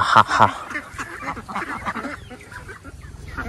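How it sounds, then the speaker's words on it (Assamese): Several ducks on a farm quack in loud, close bursts at the start, then keep up a busy chatter of softer calls throughout. "বৰ্তমান এইফালে আছে হাঁহখিনি চাওক"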